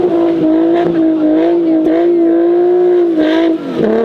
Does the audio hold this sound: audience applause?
no